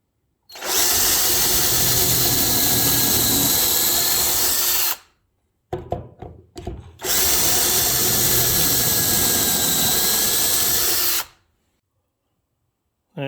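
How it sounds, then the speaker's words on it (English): Pocket holes being drilled into wood with a Kreg jig for a rabbit hutch: two long, loud, steady power-drill runs of about four seconds each, broken by a short pause of clattering handling noise, with no talking. "I'm going to go ahead and drill these holes, 2 on the bottom and flip it over and do 2 on the top here"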